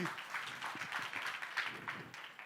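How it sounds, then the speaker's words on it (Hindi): An audience applauds after a Teachers' Day performance at a school celebration. The clapping is a dense, continuous, fairly faint wash that runs through the whole moment. "एक बार वापस तालियां बजनी चाहिए, ठोको ताली।"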